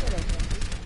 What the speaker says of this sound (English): Oh, Widowmaker shooting.